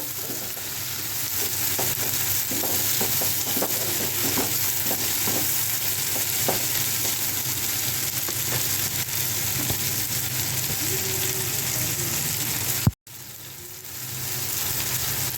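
Food fries in a hot pan, a steady loud sizzle throughout with scattered scraping clicks from stirring, cut by a brief sharp knock near the end before the sizzle resumes.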